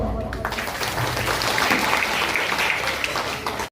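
An audience claps steadily for an organisation's founder at a national service award ceremony, a dense, continuous burst of applause filling the hall for several seconds before it cuts off abruptly.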